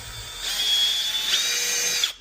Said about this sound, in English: just drill through right here.